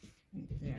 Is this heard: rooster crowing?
no